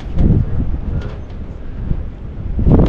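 Steady wind buffets the microphone in a low continuous rumble at a beach in the Whitsundays, swelling at the start and end of the clip.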